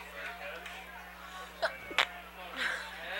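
A short, sharp sneeze-like burst cuts through faint background chatter at a high school varsity football game, followed by a second quick explosive sound.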